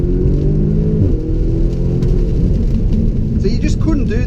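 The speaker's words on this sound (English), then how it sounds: "around the corner you can just floor it, and it just yanks you around and just propels you forward really fast" A 2017 Audi S3 Sedan pulls hard at full throttle on a wet road, its engine note building loudly from inside the cabin with a brief gearshift dip, while someone talks over it.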